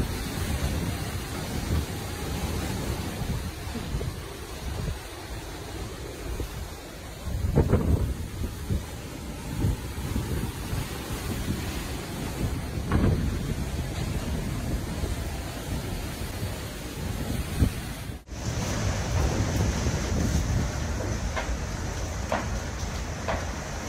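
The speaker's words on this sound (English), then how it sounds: "This is what it's like being on a cruise ship during a storm." A storm at sea heard from aboard a cruise ship: a constant roar of wind and crashing waves fills the space, with louder gusts and surges breaking through at intervals.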